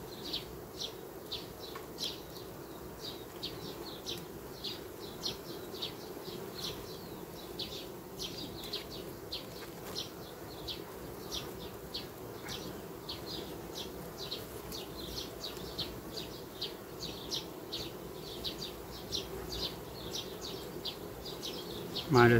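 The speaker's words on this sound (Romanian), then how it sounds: "Mai ales că este foarte frumos albina pe ramă." Honeybees hum softly on a hive frame during a queen acceptance check, a faint continuous drone with light scattered ticks and rustles.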